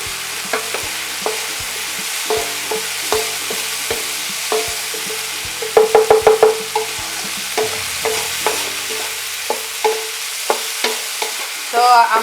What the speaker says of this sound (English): At this point I'm going to put my diced onions to it.